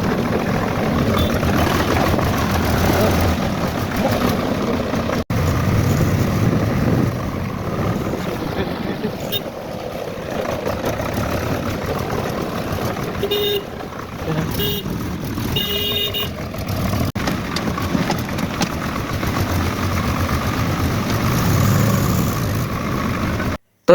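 A car or similar vehicle being driven along a village road in Bangladesh, its engine droning steadily and close for the whole stretch, with wind buffeting the microphone throughout.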